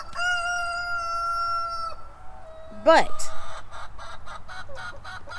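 Bantam roosters on a farm: one long sustained crow, then a sharp squawk and a quick series of rhythmic clucks, fairly close and loud, with a brief spoken word partway through.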